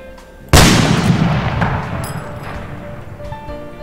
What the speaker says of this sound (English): Aim at the center mass of the target, hold right click to hold your breath, and fire.